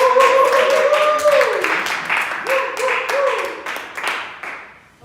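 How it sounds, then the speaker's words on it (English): Clapping from an audience at a mental health talk, a short round of claps beneath prominent speech that fades out by the end. "So please clap it up for our facilitator."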